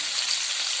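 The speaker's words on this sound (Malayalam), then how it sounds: "കറിവേപ്പില, ചുവന്നുള്ളി, വെളുത്തുള്ളി, തേങ്ങാക്കൊത്ത് ഇതെല്ലാം ഇട്ട് നല്ലപോലെ വഴറ്റിയെടുക്കുക." Curry leaves, shallots, garlic, coconut bits and green chilli frying in a pan for Kerala beans mezhukkupuratti, a brief, even, close sizzle of hot oil with no voices.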